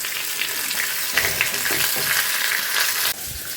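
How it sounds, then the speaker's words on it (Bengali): Fish sizzles steadily in hot oil in a home kitchen, a constant crackling fry close by, broken by a few scraping knocks as a steel spatula flips the fish, with the sizzle briefly shifting after a turn. "মাছটা ভাজা হয়ে গেছে"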